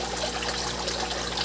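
Water runs steadily from a hose during a crayfish tank water change, a continuous close gushing trickle with no pauses and no voices.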